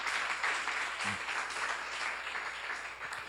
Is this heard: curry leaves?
no